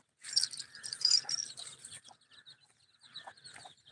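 Close, quiet peeping and clucking from gavran desi chickens and their chicks, a burst of calls up front that thins to scattered chirps.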